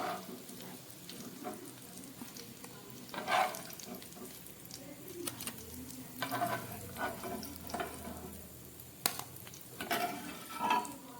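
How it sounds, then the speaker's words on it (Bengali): Katla fish cutlets fry over a low gas flame with a soft, steady sizzle, while sharp utensil scrapes and clinks mark them being turned and lifted from the pan. No one speaks. "একদম গ্যাস কমিয়ে আমার কাটলেটগুলো ভাজা হয়ে গেছে। এবার চলুন তুলে ফেলছি।"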